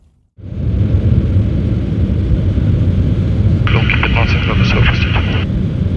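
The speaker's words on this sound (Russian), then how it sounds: "А зараз виконуємо посадку, ночну посадку." Antonov An-124 Ruslan heavy cargo aircraft during a night landing, a loud steady cockpit roar and rumble that starts abruptly and holds, with a brief radio-like electronic chatter partway through.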